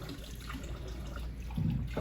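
A quarter cup of water pours into a meatloaf mixture of ketchup and barbecue sauce, a short close splashing trickle that swells slightly near the end.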